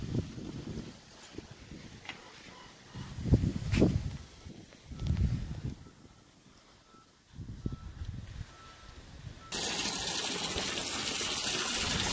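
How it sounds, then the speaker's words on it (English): Bleached water overflows and pours out of a fish tank being rinsed, with intermittent gushing surges that rise and fall, then a steady, louder rush of flowing water toward the end. "I have bleached water in here, so I'm gonna rinse it and let it flow over"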